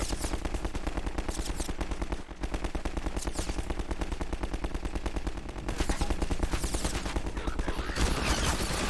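Constant automatic gunfire from enemies in Half-Life 2, rapid steady bursts of shots repeating without pause for the whole stretch, loud and near, with a brief gap early on and harsher, more intense shooting toward the end.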